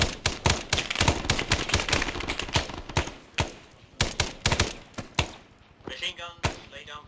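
Machine guns fire in the jungle setting of ArmA 3 S.O.G., sharp, close rapid bursts of shots in uneven volleys with brief pauses between them.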